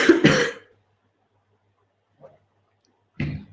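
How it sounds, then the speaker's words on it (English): A person coughs and clears their throat sharply twice at the start, followed by a faint click and another short, close throat-clearing burst near the end. "I'm just going to have a cough."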